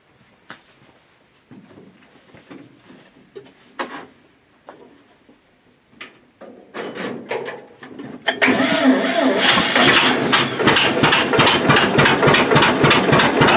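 An engine cranks and catches, then settles into a loud, steady idle with a rapid rhythmic pulse, preceded by knocks and handling noises and brief talk nearby.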